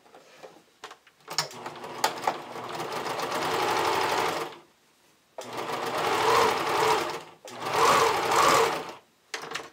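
A sewing machine bastes a bikini top's upper cup and lining along the neckline seam, running in three loud sustained bursts of rapid stitching separated by short pauses, with some clicks at the start.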